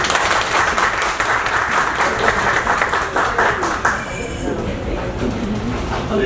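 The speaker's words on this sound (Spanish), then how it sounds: "Un aplauso." Applause from an audience at a cooperative's anniversary gathering in the Dominican Republic, a dense steady wash of clapping that thins slightly near the end, with voices mixed in.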